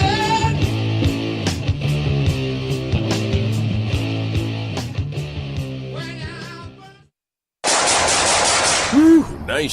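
AK-47 gunfire in a commercial: rapid bursts of automatic fire, loud and close, laid over music. The shooting stops abruptly, and after a brief silence a different sound follows.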